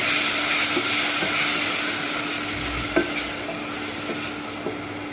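Onion, ginger-garlic paste and onion paste fry in a pan, a steady loud sizzle with a few soft stirring scrapes and knocks of a spoon, no voices.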